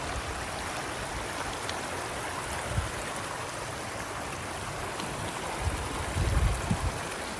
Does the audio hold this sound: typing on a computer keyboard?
no